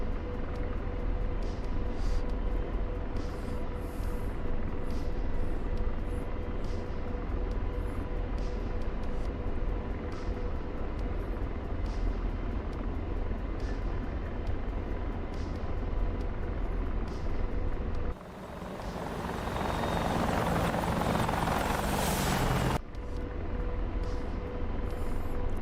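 An aircraft engine drones steadily and loudly in the DCS World flight simulator during multiplayer flight, with a sustained rushing, broadband blast partway through before the drone resumes.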